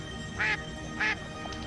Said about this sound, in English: We begin with the mallard, probably the most widespread and recognizable duck in North America.